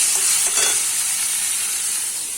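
Eggplant fries in a pan with neem leaves, a loud, steady hiss of hot oil close by, with a short stirring scrape near the start.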